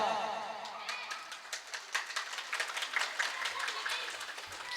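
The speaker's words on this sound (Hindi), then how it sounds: "जोरदार तालियों से हमारी कुमाऊं सभा का आप स्वागत करेंगे।" Audience clapping to welcome the Kumaon Sabha at a live Shrimad Devi Bhagwat Katha event in Nayagaon, Punjab: a crowd applauding in dense, irregular claps, moderately distant, with a faint low thumping near the end.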